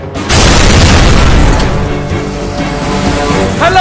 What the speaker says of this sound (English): We heard an explosion!